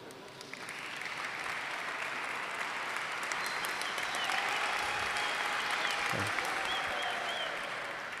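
Audience applause at a talk, a sustained wash of clapping that builds quickly and holds steady for several seconds at moderate volume, with no one speaking over it.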